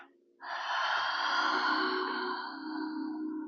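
One long, steady Ujjayi breath drawn in deeply through a constricted throat during a Pilates session, a close, hissing, ocean-like rush lasting about three seconds, heard alone.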